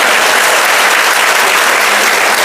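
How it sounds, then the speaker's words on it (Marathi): Loud, steady applause from a large audience at a Marathi talk, dense clapping that holds evenly throughout with no voices over it. "आणि आता एकदा टाळ्या होत्या माझ्यासाठी."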